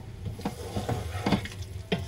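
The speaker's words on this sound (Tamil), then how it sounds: "நல்லா ஓரளவு கொதிக்க ஆரம்பிச்சிருச்சு." Drumstick lentil dal cooking in a pot, with soft intermittent stirring and bubbling knocks at a steady, quiet level, close by and with no talking.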